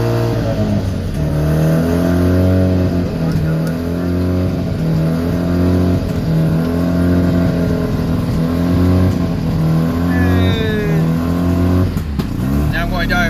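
An engine fires up after a long layoff with old gasoline in it and settles into a steady, loud idle-and-rev that runs close by and continuous, with a person talking over it throughout.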